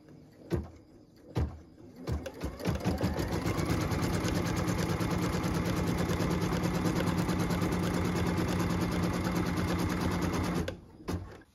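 An embroidery machine stitches a tack-down line on quilt fabric in its hoop: a few sharp clicks, then a loud, steady rapid mechanical whirring for about eight seconds before stopping abruptly.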